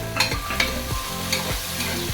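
Vegetables with onion are stir-fried in a pan for a Kannada home-style pudina bath, producing steady sizzling with repeated scraping and stirring strokes, close and fairly loud.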